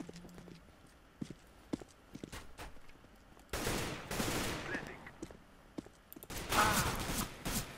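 Counter-Strike: Global Offensive gunfire in rapid, loud bursts, with a couple of sustained volleys standing out against scattered quieter footstep-like clicks and shots.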